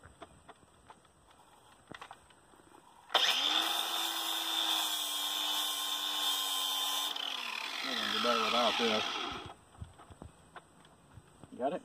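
A power grinder works on a foot valve during a repair: after brief clatter, a loud steady whine starts and runs for about six seconds, dips in pitch as it bites, then spins down, with a voice nearby.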